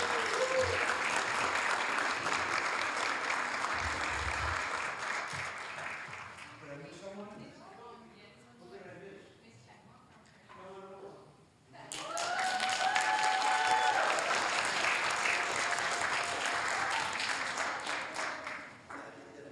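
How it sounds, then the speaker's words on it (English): A crowd applauds at a Hayward city council meeting, with sustained clapping that fades into a short lull and then swells again, loud and close, alongside brief talk. "So let's give them a really nice round of applause."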